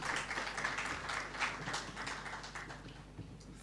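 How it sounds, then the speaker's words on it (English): Steady, fairly faint applause from a lecture audience welcoming Professor Clinton Hutton to the podium, a dense patter of clapping with no clear pauses. "could we give Professor Clinton Hutton a rousing round of applause as we invite him to take the podium"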